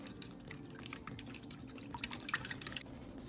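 Egg, almond milk and seasoning mixture stirred in a bowl for keto chicken and chaffles, giving soft, wet, irregular clicks and sloshing taps that run steadily at close range with no voices.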